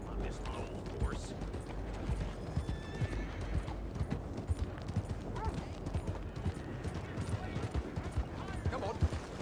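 Horse hooves clip-clop steadily in Red Dead Redemption 2, a continuous rhythmic trot with occasional whinnies and creaking tack, and someone talks over the hoofbeats.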